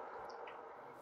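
Cave ambience from the video game Minecraft: a low, steady droning rumble with faint airy tones drifting above it, continuous and quiet for about a second.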